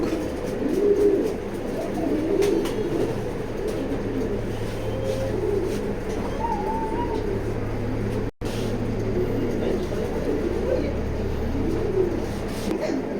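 Pigeons coo softly and repeatedly inside a loft of breeding hens, including a large checker female, with a low steady hum and murmur underneath and a brief dropout partway through.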